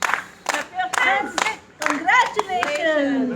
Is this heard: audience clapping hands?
yes